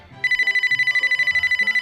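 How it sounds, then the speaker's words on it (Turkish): An electronic telephone in a video game rings in a rapid, even trill that repeats steadily, clear and close, with faint low sounds underneath. "Telefon."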